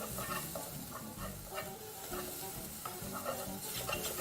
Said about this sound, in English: for this you're also going to saute them just till they sweat